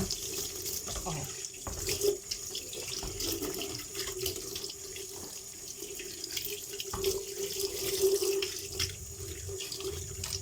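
Tap water runs steadily into a kitchen sink while a metal range hood filter part is rinsed under it, a continuous close splashing hiss with occasional louder splashes as the piece is moved.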